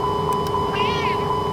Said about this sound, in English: there's this button right here. It plays a cat noise